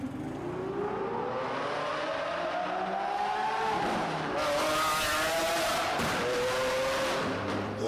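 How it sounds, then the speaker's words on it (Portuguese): A car with its original exhaust revs hard and loud, engine pitch climbing and falling through repeated accelerations with a raspy, snarling tone close by. "o escape é original, tá ligado?"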